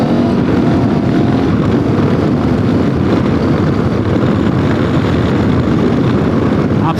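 A Benelli TRK 702 motorcycle with a 70-horsepower engine pulls up from second gear on a public road. The engine drones loud and close and holds a steady level throughout, with heavy wind rush and no talking.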